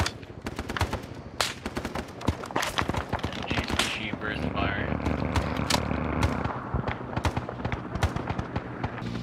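Rapid, irregular bursts of gunfire crackle through a firefight in the video game Arma 3, with sharp shots near and far and voices talking in the background.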